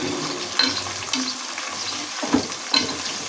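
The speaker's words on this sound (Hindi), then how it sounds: "नहीं तो ऐसे 1 से 2 मिनट पहले भिंडी को रखें, उसके बाद फिर ये बैंगन को कर लें फ्राई।" Okra and eggplant frying in hot oil, a steady close sizzle with a few stirring scrapes and clinks, no talk.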